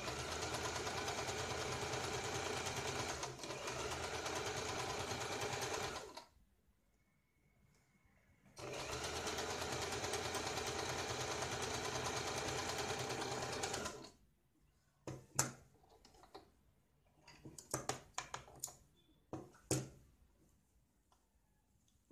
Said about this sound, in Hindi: अब यहाँ पे हम सीधी सिलाई लगाएंगे।